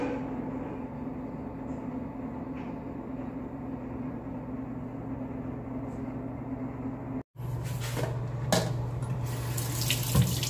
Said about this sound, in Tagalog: hugasan muna natin yung luya at saka kalamansi